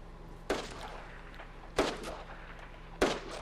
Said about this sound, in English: This fucker's shooting from his base